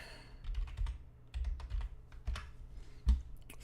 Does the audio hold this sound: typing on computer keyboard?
yes